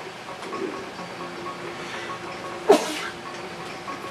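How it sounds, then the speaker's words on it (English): One short, sharp sneeze bursts out midway through quiet background game music from Star Fox Adventures on the GameCube, then the music carries on alone. "I sneezed."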